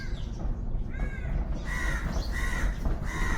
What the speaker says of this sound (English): Yes, I got a greeting by a crow today.